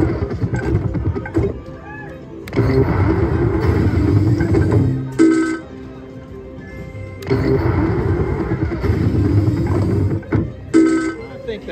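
A Firecracker Slots slot machine spinning its reels, with mechanical whirring and bright chiming electronic tones that come in two long cycles, each ending in a few short ringing blips.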